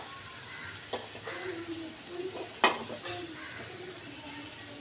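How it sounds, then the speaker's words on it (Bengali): Fried potatoes go into a curry of large chickpeas frying in a pan, with a steady low sizzle and a few sharp clinks and scrapes as a spoon stirs them in. "তো আলু যে ভাজা ছিল সেই আলুটা দিয়ে দিলাম।"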